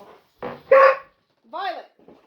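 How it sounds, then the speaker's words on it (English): Dogs barking indoors in a home kitchen, a few short sharp barks and a yip in quick succession, close and loud, with brief speech nearby. "Violet, no barking"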